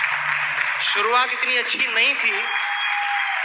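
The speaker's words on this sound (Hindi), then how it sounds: "जोरदार तालियों से उनका स्वागत करें" An audience at a motivational seminar gives a warm round of applause for the speaker's wife, a steady clapping wash that continues under someone talking.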